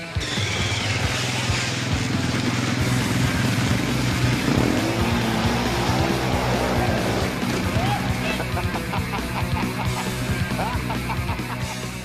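An ATV four-wheeler engine runs on snow, a loud continuous motor drone with rising revs and shifting pitch throughout, voices faintly mixed in.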